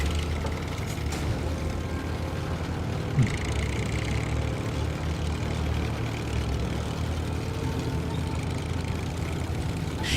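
A truck engine in a driving video game drones steadily for about ten seconds, a low continuous rumble with a faint higher whine and no speech.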